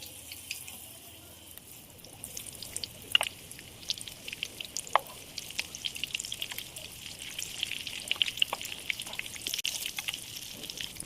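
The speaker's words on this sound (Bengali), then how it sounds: "এই পিঠটা ভাজার জন্য উল্টে দিলাম।" Egg and chicken chops fry in hot oil in a wok, turned over partway, giving a steady close sizzle with scattered crackles and pops and no talking.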